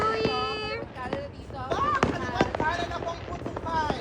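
New Year fireworks and firecrackers going off in repeated sharp bangs and crackles, some close and loud, others farther away, with people talking and exclaiming over them throughout.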